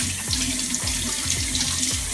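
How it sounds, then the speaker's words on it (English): Water from a bathroom sink tap runs in a steady, close rush, with a few soft splashes and knocks as hands move under the stream. "That's me turning on the water."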